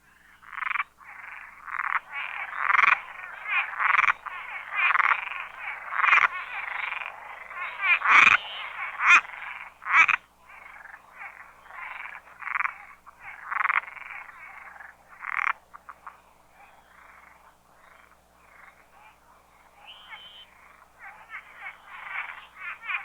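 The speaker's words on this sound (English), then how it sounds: "This frog's calls can be highly variable and are heard here with a narrow-mouthed toad bleating faintly in the background." A frog gives a long run of highly variable croaking calls in repeated close, loud bursts, with a narrow-mouthed toad bleating faintly in the background; calls in eastern North America at night, no speech.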